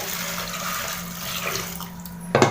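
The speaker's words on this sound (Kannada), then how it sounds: "ತರಕಾರಿ ಬೇಯಕ್ಕೆ ಬೇಕಾಗುವಷ್ಟು ನೀರು ಹಾಕೋಬೇಕು" Water pours steadily into a pressure cooker holding beans and mung beans, a continuous close splashing fill with no talk, ending in a brief louder splash.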